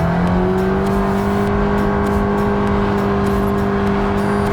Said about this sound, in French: Faut que je tienne le gaz au fond à droite dedans.